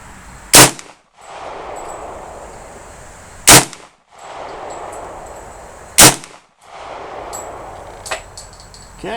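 New Frontier AR-45 rifle fired outdoors at a target: three loud, sharp gunshots about two and a half seconds apart, each followed by a brief echo, with quiet hiss and a faint metallic clink between shots.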